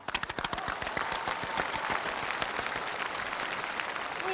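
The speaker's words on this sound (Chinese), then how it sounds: "此处应该有掌声" An audience at a Lunar New Year comedy show breaks into applause, opening with a few sharp separate claps that quickly merge into steady, close clapping.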